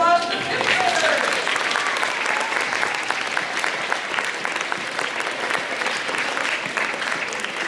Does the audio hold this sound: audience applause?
yes